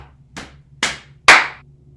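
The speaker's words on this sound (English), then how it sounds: "We're just clapping and stomping at the same time." Three sharp, close hand claps in body percussion, spaced roughly half a second apart and growing louder with each clap, each with a short ringing decay over a quiet background.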